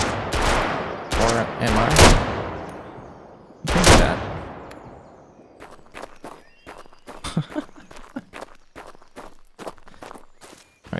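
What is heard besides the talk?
gunfire in a video game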